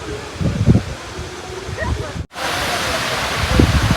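A small, shallow river at a check dam in Wayanad flows with a steady broadband wash of water, while people talk over it nearby and a brief dropout breaks the sound midway.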